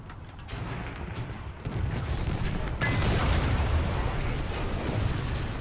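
Tank destroyer cannon fire in War Thunder, setting an enemy tank ablaze: a dense, roaring wash of explosive booms and rumbling battle noise that gets louder partway through and stays heavy and continuous.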